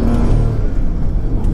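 Stage 2 tuned BMW engine running at steady revs, a dense low rumble filling the short moment, loud and close with no talk over it.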